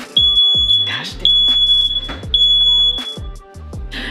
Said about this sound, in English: we're gonna broil it until the smoke detector goes off